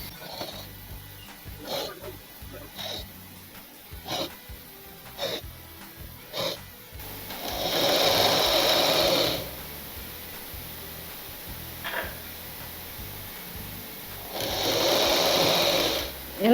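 A sewing machine stitches a fold on a petticoat in two sustained whirring runs, close and steady, separated by quieter intervals of soft handling clicks and fabric rustle.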